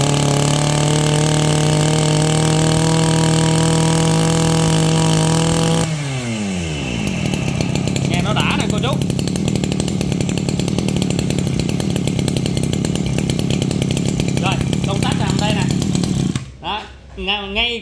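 A used Japanese-import Robin brush cutter engine runs at a loud steady whine, then drops and settles into a rough idle before cutting off near the end; someone talks over it.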